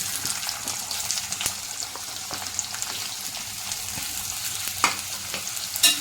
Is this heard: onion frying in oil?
yes